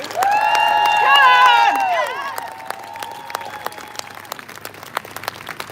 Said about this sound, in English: a massive round of applause for Johnny and Lily